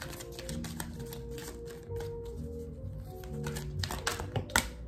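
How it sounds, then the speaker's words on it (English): Rapid papery riffling and tapping of oracle cards being shuffled, close and fairly quiet, continuing in quick bursts with soft clicks. "Let me shuffle."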